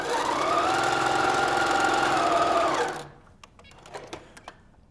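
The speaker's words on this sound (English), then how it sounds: "I can line it up perfectly on that edge and sew it using my 1/4 inch seam allowance." Sewing machine stitching log cabin quilt block pieces with a 1/4 inch seam, a steady close mechanical whirring for about three seconds that stops abruptly, followed by faint handling clicks.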